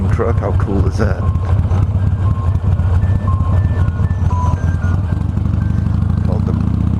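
The jingle of an ice cream truck called the Brain Freezer rings out in short melodic notes over the close, deep rumble of a Harley-Davidson Iron 883 motorcycle engine.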